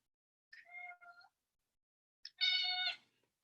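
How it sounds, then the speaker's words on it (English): A house cat meows twice, a short, wavering call followed after a pause by a longer, brighter one, close and clear against otherwise silent surroundings. "My cat wants to say hello as well."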